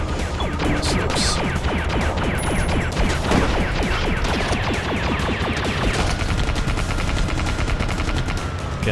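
Rapid, continuous Gatling gun fire in the side-scrolling game Cortex Command, a dense unbroken stream of shots with clattering impacts running loud the whole time, no voices.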